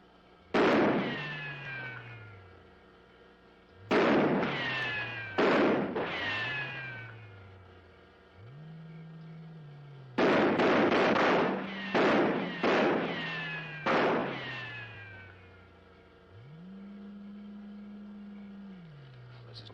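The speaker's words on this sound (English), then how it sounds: "Go ahead, Corporal. Fire a few rounds." Soldiers firing a few rounds in a 1950s sci-fi film, a series of loud sharp gunshot bursts, some in quick clusters, with a low humming tone rising and falling between the shots.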